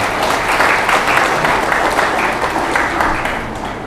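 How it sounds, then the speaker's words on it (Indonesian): Audience applause at a tahfidz Quran graduation ceremony in an Indonesian pesantren, a dense, steady wash of many hands clapping throughout, fairly loud and continuous, tapering slightly at the end. "Kasih tepuk tangan dulu."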